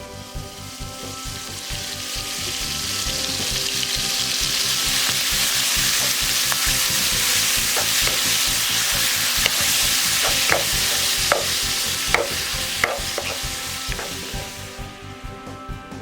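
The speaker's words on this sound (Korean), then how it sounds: "고기 넣고 1분 정도 볶는다" Beef crackles and sizzles in hot sesame oil, a steady frying hiss broken by sharp pops and the scrape of stirring.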